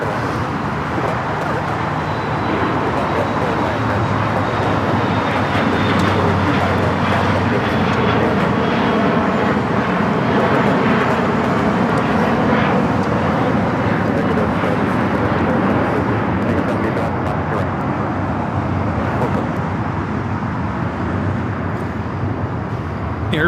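An airliner on final approach to land at Los Angeles airport, about three miles out, makes a loud, continuous jet roar that swells and drifts over time, with a radio voice and chatter in the background.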